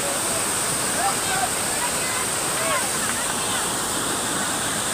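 Steady broadband rush of river current at Jaflong, Sylhet, continuous and fairly loud for the whole stretch, with faint voices and shouts from bathers scattered through it.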